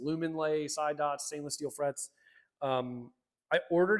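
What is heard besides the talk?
No everyday noises stand out.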